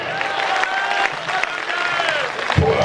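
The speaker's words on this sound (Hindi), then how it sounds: "थोड़ा ऊर्जा थोड़ा बढ़ाना पड़ेगा आपका तालियों का धड़कन" Audience applause at a Hindi poetry gathering, a kavi sammelan in Waidhan, Singrauli, with many hands clapping steadily and a little distant. It carries on through about three seconds.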